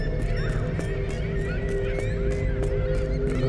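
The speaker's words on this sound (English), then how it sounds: "Let's go see why the birds are just circling around again." In the game The Lightkeeper, seabirds circle overhead, and their honking calls repeat steadily over a constant ambient drone.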